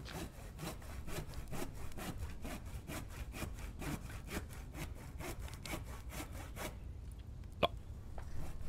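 Wood being sawn at a crafting saw station in the survival game The Infected: steady, rhythmic back-and-forth rasping strokes, close and loud, then a pause broken by a single sharp knock.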